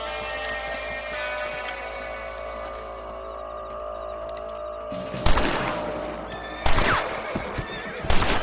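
Red Dead Redemption gameplay: a horse whinnies and snorts over a steady ambient hum. Then three loud, sharp gunshots ring out from a rifle aimed at rabbits, the first and second spaced well apart and a third near the end.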